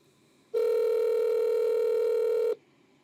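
A steady electronic telephone tone, likely a ringback or dial tone, sounds loud and unbroken for about two seconds with no voices over it, while a phone call is being placed.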